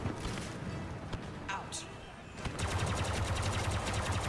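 Blaster gunfire in Star Wars Battlefront 2 on the Crait map: scattered shots at first, then sustained rapid volleys at mid distance, mixed with other game sounds.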